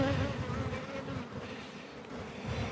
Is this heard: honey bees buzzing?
yes